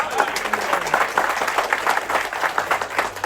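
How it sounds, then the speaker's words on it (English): Applause from a gathering during crew introductions aboard the ship Amadeus, brisk uneven clapping from a modest group, with a voice speaking briefly under it. "Big applause, please."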